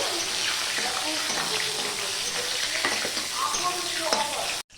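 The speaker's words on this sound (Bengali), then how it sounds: "প্রথমে আমি উচ্ছেটা ভেজে নেব" Sliced bitter gourd fries in a pan, a loud steady sizzle with stirring scrapes throughout, cutting off abruptly at the end.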